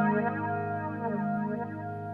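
A flanger with its feedback set past the middle colours a steady, buzzy sustained tone with pronounced sweeping, metallic comb-like swirls, heard on its own at moderate volume.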